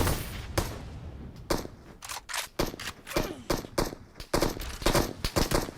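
Gunfire from a PUBG Mobile match, with a run of sharp, loud shots fired singly and in quick clusters over about six seconds. A faint hiss fills the background between the bursts.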